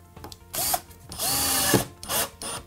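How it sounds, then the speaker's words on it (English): A power drill whirs in short bursts and then a longer run as it drives a screw into pallet wood for a table, close up, with brief pauses between. "Drive 1 screw in."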